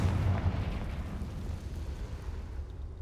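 A Confringo spell explosion in the Hogwarts Legacy video game, a heavy low rumbling blast that stays loud and fills the whole clip, slowly tapering with a crackling roar and no voices.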